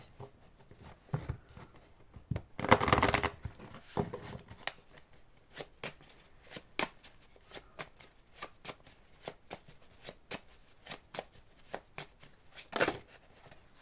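Oracle cards riffled and shuffled by hand, sounding as a quick flurry of crisp card snaps followed by a long run of soft, rhythmic flicks and taps, close and alone without talk.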